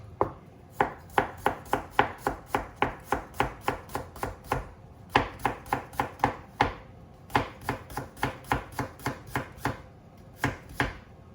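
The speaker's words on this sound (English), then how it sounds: "So I cut cucumber first." A knife chops a cucumber on a cutting board in quick rhythmic taps, several fast runs of sharp close knocks separated by short pauses.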